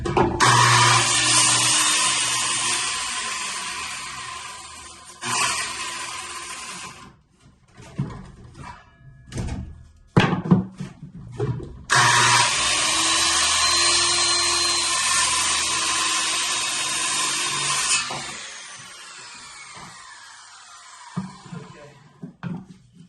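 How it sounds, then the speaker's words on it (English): A power sander grinding squeezed-out thickened epoxy from joints during a boat interior rebuild, running in loud whirring bursts that start and stop, with scattered knocks and handling noise in the gaps. "Some of that squeezed out just a touch there, so I need to hit that with a sander."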